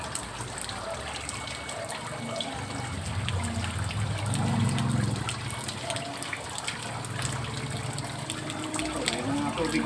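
Water runs steadily through aquaponics pipes toward a downspout outlet, a continuous moderate trickle and gush with some low rumbling, with no talk.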